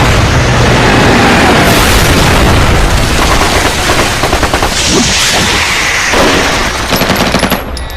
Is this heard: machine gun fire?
yes